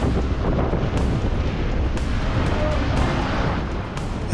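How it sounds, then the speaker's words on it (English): Strong wind roars and buffets the microphone in a loud, continuous rush, with gusts swelling at intervals. "the wind gusts were gaining in strength"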